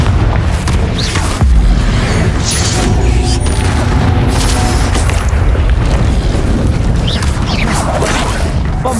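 The Confringo explosion spell blasts in Hogwarts Legacy amid loud, continuous combat din, heavy booming rumble with bursts and crackles layered over one another throughout.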